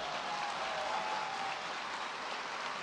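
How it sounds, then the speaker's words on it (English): Audience at a university founding celebration applauding, a steady dense wash of clapping heard from a distance, soft and even throughout with no voices on top. "Now let's clap for them."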